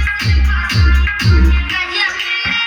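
Music with heavy bass plays loudly through speakers driven by an MT21 2.1 class D amplifier, with deep booming bass pulses in a steady beat under brighter tones.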